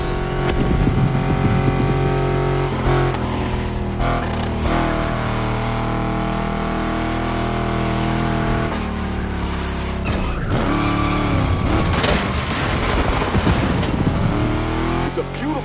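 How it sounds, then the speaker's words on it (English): Several car engines rev and roar loudly in The Crew Motorfest racing game, set in Oahu, Hawaii, with surging acceleration and a steady mechanical drone throughout, mixed with game music and a voice talking over it. "Let's hear these engines."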